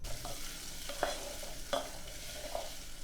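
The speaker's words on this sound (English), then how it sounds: "Sauté with 1 tablespoon of olive oil." Onion sautés in a tablespoon of olive oil with a soft, quiet, continuous sizzle, broken by a few faint stirring scrapes.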